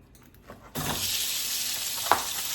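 Lean ground turkey dropped into hot olive oil, starting as a sudden loud sizzle that then holds steady and close, with a stir or clink near the end and no talking over it.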